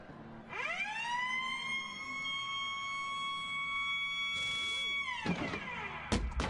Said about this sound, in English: Oh my god, what a bloody raid siren.